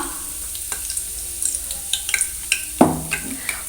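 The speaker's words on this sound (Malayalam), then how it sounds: "പാനിലേക്ക് ഓയിൽ ഒഴിച്ചിട്ടുണ്ട് അത് ചൂടായിട്ടുണ്ട് നമുക്ക് കുറച്ച് കറിവേപ്പില ഇട്ട് കൊടുക്കാം" Soft sizzling of curry leaves in hot oil, with a few light scrapes and taps of a spoon against the pan.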